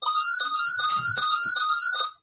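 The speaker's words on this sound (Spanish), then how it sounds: "aquí suena un teléfono que lo tendré que apagar de alguna forma" A telephone rings indoors during an economics lecture, a steady electronic tone with a repeating melodic pattern that continues for about two seconds and then stops, with no talk over it.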